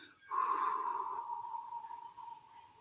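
One slow, soft exhale through the nose and mouth during a calming meditation, close and quiet, starting firmly and gradually tapering off.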